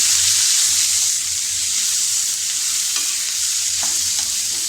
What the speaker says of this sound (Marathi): तोपर्यंत आपल्याला टॅमॅटो त्याच्यामध्ये परतायचं आहे.